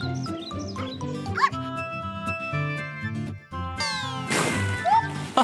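Cartoon kittens meow in a few short, high, bright calls over a busy children's cartoon soundtrack with music, ending in a burst of cheerful noise.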